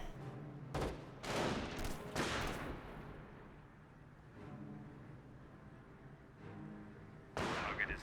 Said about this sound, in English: Does take a shot in the scope rifle.